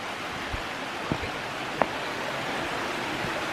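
Creek water runs steadily along the Dead Horse Falls Trail near Descanso, California, making a continuous broadband rush with a few faint knocks and taps over it and no voices.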